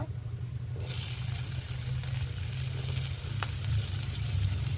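Onions hit hot oil for a rohu fish curry, a sudden sizzle that becomes a steady loud frying hiss with light stirring, no voices.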